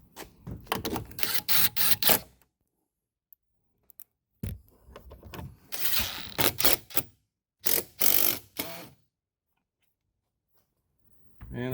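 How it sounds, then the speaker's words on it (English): Screws are driven into a Blue Ox base plate on a 2014 Honda CR-V, giving short, close bursts of clicking, ratcheting mechanical noise separated by quiet pauses. "Put these 2 screws in."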